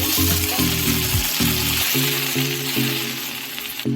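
Gongura leaves fry in hot oil in a pan with a steady, close sizzle and crackle that runs throughout, with no voices.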